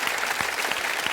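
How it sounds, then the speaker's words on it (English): A studio audience on a talk show applauds for Luke, a loud, dense wash of clapping filling the whole brief moment. "By a round of applause for my brother Luke, everybody."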